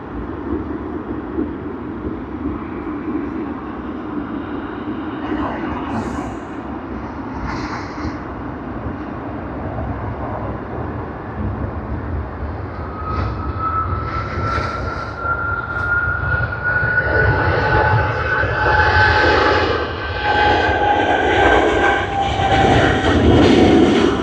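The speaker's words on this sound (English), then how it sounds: "we hear the engines spooling up, so that is the last departure of our live stream tonight." Airliner engines at Sydney Airport spool up for departure, a broad steady roar that grows louder and rises in pitch over the second half, with a climbing whine emerging partway through.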